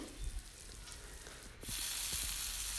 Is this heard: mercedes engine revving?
no